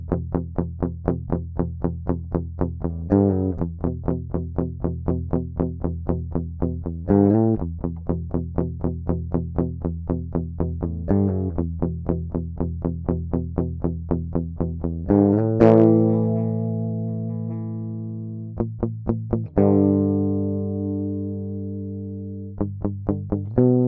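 An unprocessed DI electric guitar signal recorded into Studio One plays a clean, thin, repeated muted chug pattern with rhythmic plucked notes, followed by a few sustained ringing chords that decay, alone and close.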